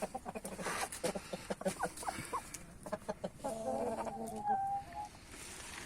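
Hens cluck in short, scattered bursts at close range, with soft rustling and a few faint voices in the background.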